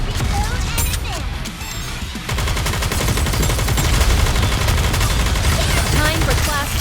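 Rapid sustained gunfire rattles through a NIKKE video game battle, loud and dense bursts of automatic shots that thicken after a brief lull, with voices calling out over the shooting.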